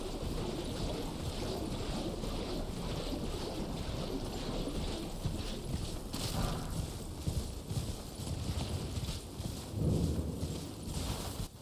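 Horse hooves galloping in the video game Elden Ring make a fast, steady clip-clop under soft wind and ambient noise, fairly quiet, with no talk over it.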